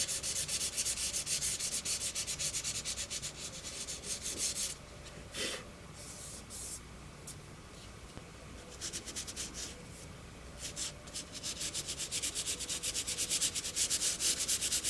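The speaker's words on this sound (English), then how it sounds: "Back to sanding." Steady, rhythmic sanding strokes rasp against a small plastic part from a Moebius Models 2001 EVA Pod kit, close up and continuous, with a brief pause midway before the scrubbing resumes.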